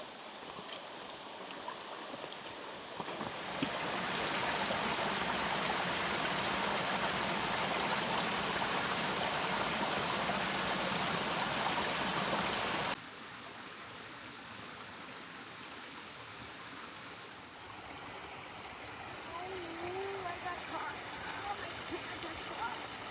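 Creek water rushing beneath an old footbridge on a coastal hiking trail in Japan, a steady broadband flow that swells loudly after a few seconds, then drops to a softer, nearer trickle with faint background sound.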